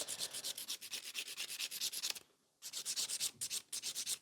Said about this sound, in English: I like to do it with the full file because this way I've got more control of where I'm filing and I can make the things prettier.